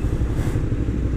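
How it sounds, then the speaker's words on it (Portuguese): A Honda Titan 160 motorcycle engine runs with a loud, steady low rumble and rough mechanical texture, heard close and alone out on the street. "Testando a moto aqui."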